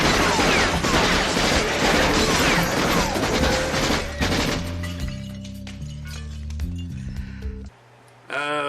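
Machine gun fire from the 1986 film Maximum Overdrive: dense, rapid bursts with crashing impacts fill the first half, then give way to a sustained engine-like drone and scattered hits before a brief near-silence.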